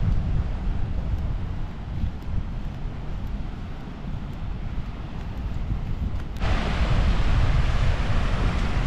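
Steady broadband surf wash on a beach between Jambiani and Paje, Zanzibar, with wind buffeting the microphone; the roar swells louder near the end as a wave breaks close by.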